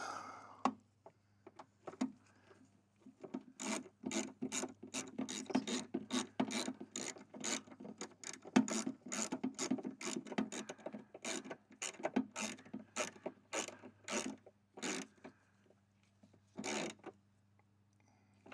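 A ratchet wrench clicks in rapid, even bursts as it tightens a car coolant level sensor, the close mechanical ratcheting running for most of the stretch with short pauses between strokes, no talk.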